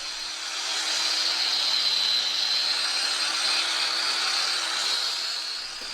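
An angle grinder shapes a half-round bullnose edge on marble tile, giving a steady, loud, high-pitched grinding whine that holds for several seconds.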